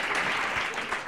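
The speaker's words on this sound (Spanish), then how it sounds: "No entiendo el aplauso." A studio audience on a Spanish comedy show bursts into applause, a loud, dense patter of many hands clapping close by for the whole moment.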